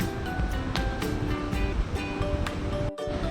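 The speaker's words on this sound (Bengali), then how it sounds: "তার মধ্যে দিয়ে দেব গোটা জিরে ফোড়ন, তার মধ্যে দিয়ে দেবো তেজপাতা" Whole cumin seeds and bay leaves sizzle in hot mustard oil, a close, busy crackling hiss dotted with sharp pops and spits that runs continuously, with no talk.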